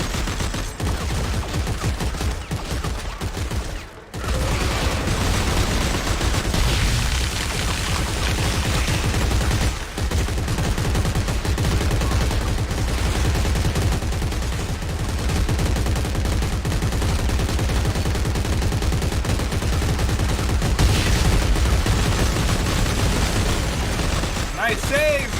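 Sustained automatic gunfire rattles through a Dead Space 3 co-op firefight, dense and loud for the whole stretch, with one brief break near the start and voices talking over the shooting.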